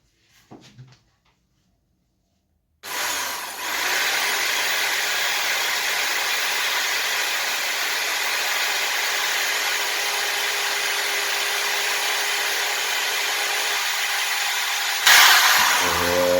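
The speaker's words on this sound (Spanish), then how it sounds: "vamos a empezar a hacerle los taladros para vaciarlo." A power drill bores holes into a car battery, starting after a near-silent pause and then running at a steady, loud, continuous whine for about twelve seconds before a brief change at the end.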